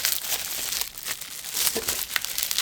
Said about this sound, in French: Je vais juste déballer comme ça